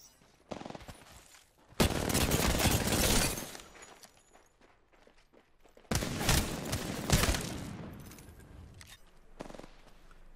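Two bursts of loud, broadband gunfire from a Wingman pistol, each lasting over a second, with quieter shots and clatter between them, in a competitive 1v1 video game tournament match.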